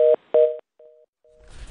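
Telephone line tone after a call drops during a Korean stock-market broadcast: two loud, clipped beeps, then two fainter steady tones separated by silence, ending in hiss.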